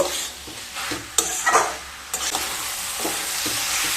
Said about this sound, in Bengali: এবার খুব ভালো মতো মিশিয়ে নেব